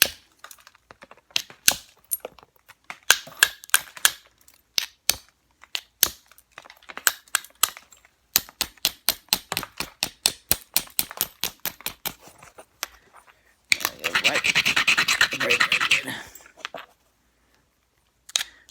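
A hammerstone knaps flakes off a large stone flake, landing a long series of sharp, close clicks and taps in uneven bursts. A dense crunchy scraping stretch comes partway through, and nobody speaks.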